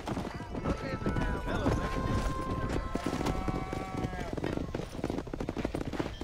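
Horses gallop with rapid, overlapping clip-clop hoofbeats while herding cows in the video game Red Dead Redemption, with a whinny and someone talking over the continuous drumming of hooves.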